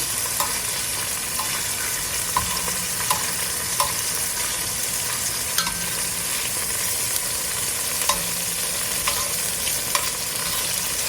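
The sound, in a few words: shrimp frying and sizzling in a pan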